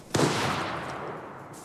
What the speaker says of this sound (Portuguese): Ouviu esse tiro ali, Costa?